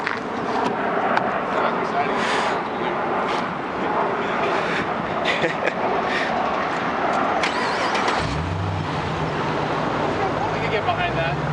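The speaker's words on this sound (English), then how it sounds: "Mike Musto is going to start my car." A muscle car's engine cranks and catches, then runs with a steady low rumble near the end, under a background of continuous noise and people chatting nearby.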